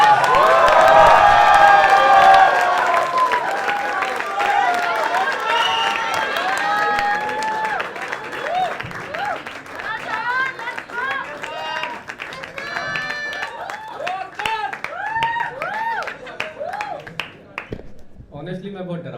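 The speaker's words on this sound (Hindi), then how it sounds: "एक बार जोरदार तालियों से प्लीज मैं मंच पर बुलाना चाहूंगा मेरे प्रिय मित्र अदनान शेख।" A live audience at Irshaad 3.0, Above The Habitat in Mumbai, bursts into loud, dense applause and cheering with shouting voices as a performer is called to the stage, then settles into steadier clapping and crowd noise.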